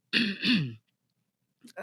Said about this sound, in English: excuse me, sorry to clear my throat